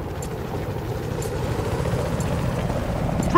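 Transport helicopter in Battlefield Hardline, a steady low rotor and engine drone filling the whole stretch, fairly close and slowly building louder, with faint gunfire-like ticks and no talk.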